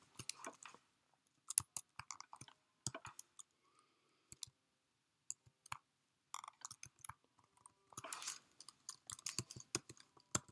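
Computer keyboard keys clicked in quick, irregular bursts as notes are typed into Sibelius music notation software, with short pauses between runs of keystrokes, close and fairly quiet.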